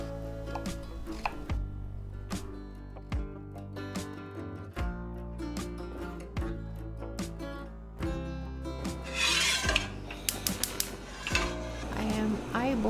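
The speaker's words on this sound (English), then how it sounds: "Then I cut the onion." Knife chopping onion on a cutting board in a home kitchen, a steady run of sharp percussive knocks, close and fairly loud, with some clatter of pans and utensils mixed in and no talking.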